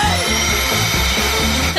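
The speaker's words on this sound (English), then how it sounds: "This vacuum will eat all the worms fast!" A vacuum cleaner runs loud and close with a steady, buzzing motor drone and a faint pulsing flutter, unbroken for under two seconds.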